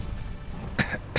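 A person coughs twice, a short harsh burst near the end followed by another brief cough, faint over a steady low background hum with no talking.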